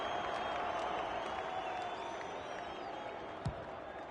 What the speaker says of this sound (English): The crowd cries ball and they get their wish.